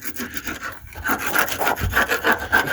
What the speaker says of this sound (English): So right now he's just chipping those out, any uneven surfaces, getting rid of it.